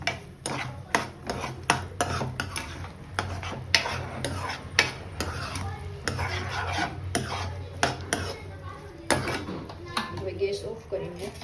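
Chopped almonds being stirred into caramelised sugar in a pan, with repeated scraping and clinks of a spoon against metal, steady and close, and a voice talking over the stirring.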